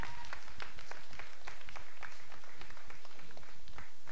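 Audience applause after a performance at a youth culture festival stage contest in Iwate, loud rhythmic clapping from a crowd with sharp individual claps standing out, steady throughout.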